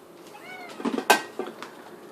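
A cat in a home kitchen lets out several short meows close by, followed by a louder sharp meow and a softer final call, over a quiet background.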